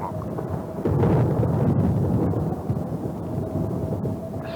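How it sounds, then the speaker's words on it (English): Low thunder following a vertical lightning discharge, heard from a glider in flight: a deep rumble swells abruptly about a second in, then rolls on and slowly fades beneath a faint steady tone. "A vertical lightning discharge at 3 o'clock."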